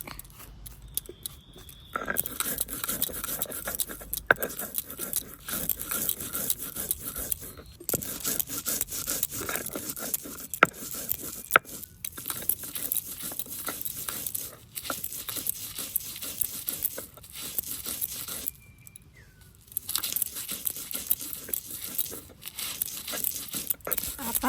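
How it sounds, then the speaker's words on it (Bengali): Raw taro is ground into a paste without water in a village kitchen, giving continuous close scraping and rubbing strokes with a brief pause partway through. "এইবার বেটে নিচ্ছি, এইবার বেটে নেব, জল দেবো না, এই কচু দিয়ে দিয়েই বাটবো।"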